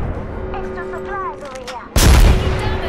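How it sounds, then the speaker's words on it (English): A single loud, sharp sniper rifle shot from the video game Apex Legends cracks out close after a stretch of quieter game noise, its boom ringing and decaying afterward. "Just be careful, they are sniping."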